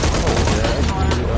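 Gunfire in the video game Shadow of the Tomb Raider: a loud, dense run of rapid shots and bursts crackling without pause, close and continuous across the whole moment.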